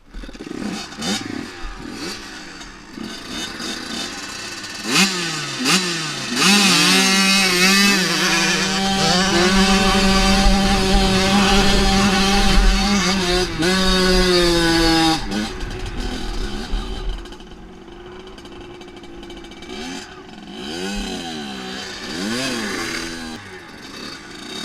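Kid's dirt bike engine throttled hard, revving up and down in repeated rising and falling whines with a sustained high-rev stretch in the middle, loud and close, then fading back to idle.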